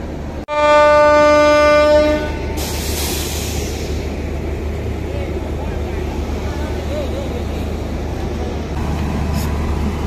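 A passenger train leaving Dindigul Junction toward Nagercoil sounds a loud horn blast for about two seconds, then a steady low rumble of rolling wagons and wheel noise follows close by, with a voice talking over it.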